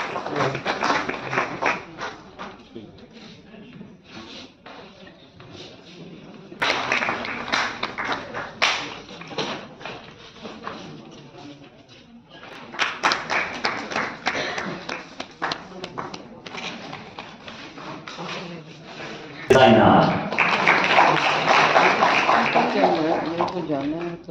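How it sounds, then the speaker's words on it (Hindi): Clapping and applause from an audience at an IP-to-IPO event held at the Constitution Club, in bursts that rise and fall across the stretch. Speech over a public-address system runs between and over the clapping. "a huge applause for"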